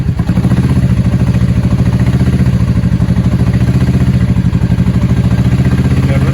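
Suzuki Boulevard motorcycle engine after rain, loud and close, running with a rough, pulsing low chug that stays steady without clear rises, as if faltering under throttle.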